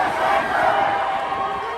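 Crowd at a swim championship cheering and roaring with everyone on their feet, a dense sustained wash of voices lasting under two seconds.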